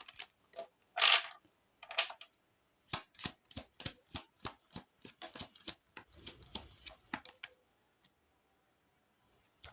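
Oracle cards being shuffled and drawn by hand, close and quiet: a few riffling bursts, then a quick run of crisp ticking card snaps that slows and stops into silence.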